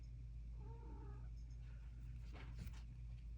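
A house cat vocalizes once with a soft, drawn-out meow near the middle, faint against a steady low hum in an indoor room.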